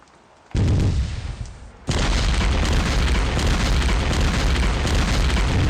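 Artillery barrage exploding in the wargame Steel Panthers: World at War: a loud booming blast hits after a quiet start, then a second heavy impact rolls into sustained, dense rumbling explosions that fill the rest.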